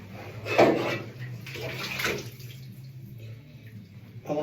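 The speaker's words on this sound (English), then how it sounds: "I'm gonna take my stuff out of the tub." Trombone parts with an F attachment are lifted from a bathtub filled with water, giving soft splashes and sloshing bursts followed by dripping and quieter water movement.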